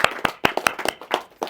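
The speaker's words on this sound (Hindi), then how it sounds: "जोरदार तालियां." A small audience at a lecture claps in a brief burst, sharp distinct handclaps spaced irregularly rather than a dense roar, close and fairly loud.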